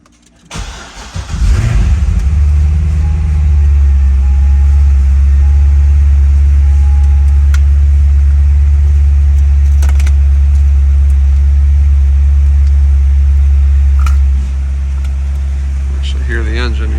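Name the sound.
2009 Corvette Z06 engine cold start and idling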